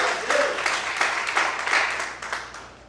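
Congregation clapping during an evangelical church service, a steady broad wash of applause with uneven swells, fairly loud and without speech.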